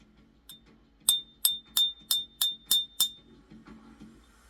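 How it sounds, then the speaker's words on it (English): A drinking glass is handled and set against a gold-toned object during a magic trick, giving seven bright, evenly spaced clinks in a steady rhythm, close and clear over a low background hum. "Okay, I'll place that glass down for now."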